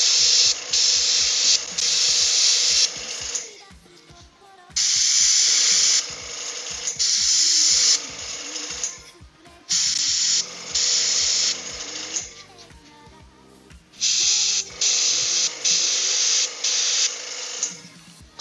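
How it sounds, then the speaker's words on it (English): Airbrush spraying paint onto the belt of a Wild West Exodus miniature: loud hissing bursts of several seconds each, separated by short pauses filled with faint clicks and handling noise. "Spraying a belt with an airbrush?"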